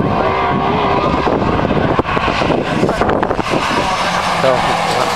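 Classic touring cars racing at Mallory Park, engines roaring loudly and continuously with wind buffeting the microphone, a commentator talking over the noise throughout.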